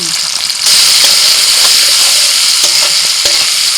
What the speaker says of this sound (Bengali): ফোড়নটা ভাজা হয়ে গেছে সেদ্ধ করা ছোলা দিচ্ছি